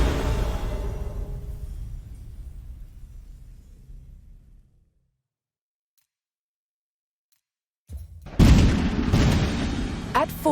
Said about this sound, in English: the roar of cannon fire sounded the death knell for England's ambitions in France